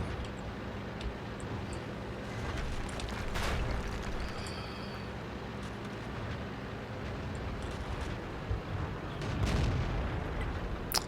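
Tank gunfire in World of Tanks sounds as a few heavy booms over a constant low engine rumble and battlefield noise, the loudest blasts near the start and toward the end.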